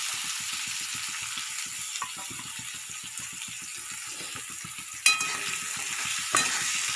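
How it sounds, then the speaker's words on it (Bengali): Chopped onion sizzles steadily in hot oil while cooking dal with egg, with a continuous frying hiss broken by rhythmic stirring scrapes and a couple of sharper clinks from the pan, close and fairly loud with no talking. "এবার আমি তেলের মধ্যে পেঁয়াজ কুচি দিয়ে দেবো।"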